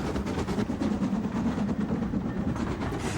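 Hinton Manor, a 1939 Swindon-built steam locomotive on the Severn Valley Railway, rolls past with a steady low rumble and a faint rhythmic beat of wheels and cylinders. It sounds moderately loud and fairly close, with no talk.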